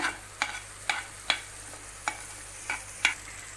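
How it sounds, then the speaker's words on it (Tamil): Sweet corn kernels lightly frying in butter, a quiet sizzle beneath sharp, regular spatula clicks and scrapes against the pan, roughly every half second. "அதை கொஞ்சம் லைட்டாக வறுத்துக்கோங்க"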